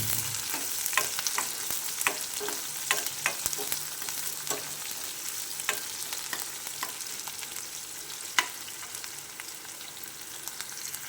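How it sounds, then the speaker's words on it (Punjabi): Chopped onions fry in a pan with cumin for a Punjabi tinda curry, giving a steady soft sizzle with scattered stirring scrapes and ticks, close by and with no talking. "ਜੀਰਾ ਆਪਣਾ ਹੋ ਗਿਆ ਆਪਾਂ ਇਹਦੇ ਵਿੱਚ ਪਾ ਲਾਂਗੇ ਪਿਆਜ਼"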